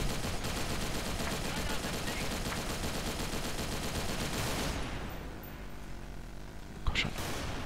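Sustained rapid machine gun fire from a 75-round weapon in the video game S.K.I.L.L., Team Deathmatch mode, dense and continuous for several seconds before cutting off, followed by a single loud shot.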